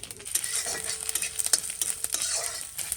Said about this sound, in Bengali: তেল গরম হয়ে গেছে পাঁচফোড়ন দিয়ে দিচ্ছি তেজপাতা শুকনো লঙ্কা